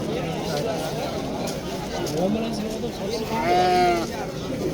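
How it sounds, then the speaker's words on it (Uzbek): A ram bleating among sheep at the Thursday livestock bazaar in Sariosiyo, two short wavering bleats, the louder one near the end, over crowd chatter and people talking close by. "Shu qo'ylarning ichga yurgan qo'shqor mana shu ekan."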